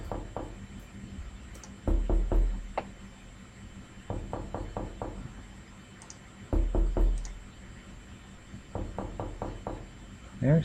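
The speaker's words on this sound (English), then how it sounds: "There's that knocking. It is in my headphones." Knocking comes from an open computer window and plays through headphones: clusters of three to five quick, close knocks repeat every few seconds, interleaved with a few single taps over a quiet background hum.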